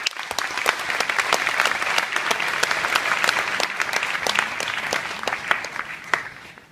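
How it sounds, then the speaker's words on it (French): Dense audience applause at a ceremony presented by a master of ceremonies, steady and sustained throughout with many sharp individual claps, fading slightly near the end. "Je vous demande de l'applaudir, s'il vous plaît."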